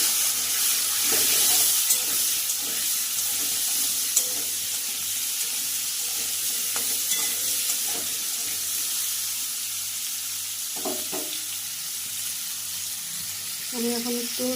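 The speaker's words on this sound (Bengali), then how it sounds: "জিরে ফোড়ন দিলাম আমি হচ্ছে চারটা কাঁচা লঙ্কা এমনি হালকা ফাটিয়ে দিয়েছি" Cumin seeds and lightly split green chillies sizzling as they fry in a pan, a continuous close hiss with occasional clinks and stirring sounds.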